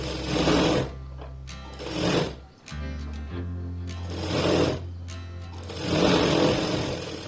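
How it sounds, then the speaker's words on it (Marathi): A sewing machine stitches a folded strip onto the back of a blouse, running in several loud bursts of steady motor hum with brief pauses between them, close up and with no talking. "पट्टी आपल्याला मध्ये फोल्ड करून पुन्हा एक शिलाई त्याच्यावरती मारून घ्यायची बघा ह्याप्रमाणे आपण शिलाई मारणार आहे"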